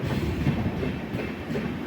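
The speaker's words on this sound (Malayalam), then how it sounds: "ട്രെയിൻ പൊയ്ക്കൊണ്ടിരിക്കുകയാണ്" A train rolls slowly through a 106-year-old railway station, a steady rumbling with faint rhythmic clatter of wheels, continuous and fairly close.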